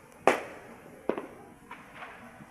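Fireworks for the New Year pop in a few sharp bursts, two strong cracks followed by fainter distant bangs, heard outdoors without talk.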